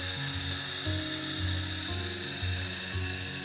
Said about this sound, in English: I let the air out.